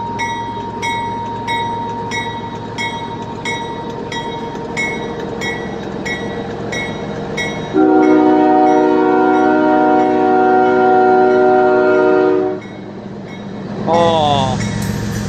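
A freight train rumbles past up close with steady clattering, a long sustained horn blast midway, then squealing wheels near the end.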